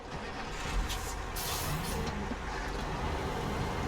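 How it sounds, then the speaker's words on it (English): Truck engine running in the Snowrunner video game, a steady loud rumble with hissing, air-brake-like bursts in the first half, continuous and without talk. "Right, engine on now."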